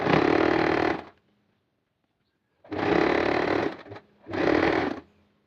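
Sewing machine sewing straight lines on an upcycled fabric hijab cap, heard in three loud close bursts of whirring stitching separated by short pauses.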